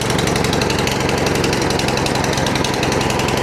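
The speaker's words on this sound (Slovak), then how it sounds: "jednoduchým potiahnutím motor nakopneme" A Hecht 5060 drum mower's petrol engine runs close by after being pull-started, a loud, steady, rapidly pulsing chug with no talk over it.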